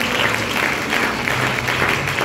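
A church congregation at a retreat closing service applauds to acclaim Jesus, a dense, steady wash of clapping from many hands filling the room without pause.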